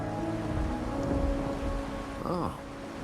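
Steady rain falling during a companion quest scene in the video game Wuthering Waves, a soft continuous wash under low ambient tones, with a brief swooping chime near the end and no voices.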